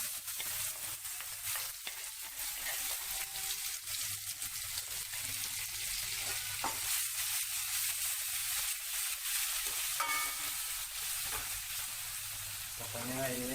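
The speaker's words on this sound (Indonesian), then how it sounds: "langkah berikutnya kita goreng bumbu yang tadi ya sampai matang" Spice paste sizzling and frying in hot oil for a cucumber vegetable dish, a steady close crackle with occasional stirring, carrying on without a break for the whole stretch.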